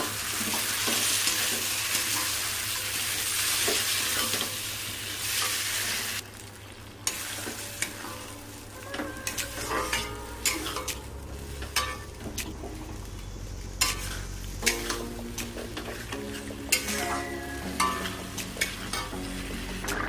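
Potatoes stir-fried with spices in a pan for an egg curry, a bright hissing sizzle at first, then rhythmic scraping and clanking of a spatula over a lower fry, close and steady.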